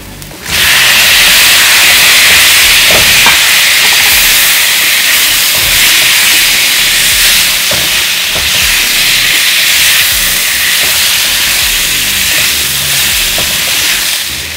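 Shrimp hit a hot pan with garlic and onions, setting off a loud, sudden hiss that stays strong and steady for the rest of the clip, close up with a few faint clinks.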